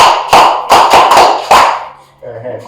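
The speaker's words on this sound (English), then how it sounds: "Clap for him" A group of schoolchildren claps for a classmate with a handful of sharp, loud claps close by, quick and slightly uneven, which stop abruptly. A faint voice follows at the end.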